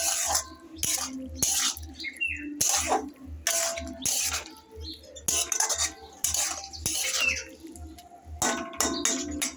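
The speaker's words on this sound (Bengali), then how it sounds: "এখন আমি বেগুনগুলো দিয়ে একটু নাড়াচাড়া করে দিলাম।" Eggplant being stirred into a drumstick curry in a pot, with repeated scraping and clattering of a metal spoon against the cookware in uneven bursts, plus a faint background bird call.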